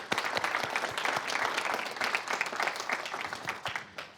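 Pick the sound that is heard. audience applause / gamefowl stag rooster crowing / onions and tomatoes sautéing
audience applause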